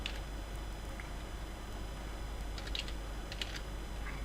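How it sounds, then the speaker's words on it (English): Light, scattered keystrokes on a computer keyboard, quiet and close over a steady low hum, with small clusters of clicks toward the end. "I'm going to type"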